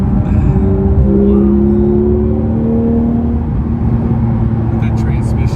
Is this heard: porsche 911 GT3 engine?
yes